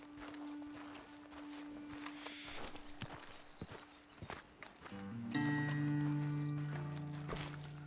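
Horses walk at an easy pace in Red Dead Redemption 2, soft hoof clops that grow louder as a steady game music tone rises behind them.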